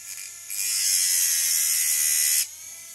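Homemade Dremel-style rotary tool sharpening with a bit, a close, thin high-pitched whine lasting about two seconds over a faint background hum, then stopping.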